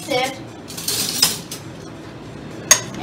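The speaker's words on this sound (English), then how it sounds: "we're gonna continuously mix it until it melts" A utensil clinks and scrapes against a bowl set over boiling water while brownie cupcake batter of butter and chocolate is stirred until melted, with irregular close metallic taps.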